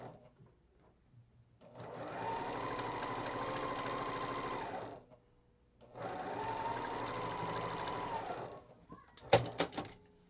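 A sewing machine stitches quilt pieces in two sustained runs of steady, rapid whirring separated by a short pause, then a few brief clicks and bumps at the end.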